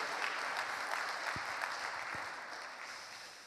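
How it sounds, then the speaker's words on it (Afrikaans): A church congregation claps its hands in steady, dense applause that fills the room, moderately distant and gradually easing toward the end. "En kan ons net vir hulle lekker hande klap gee soos hulle opstaan."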